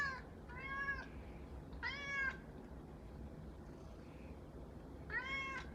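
An elderly pet cat meows indoors, three distinct harmonic meows spaced a couple of seconds apart, fairly close and clear against a quiet room with faint background hiss.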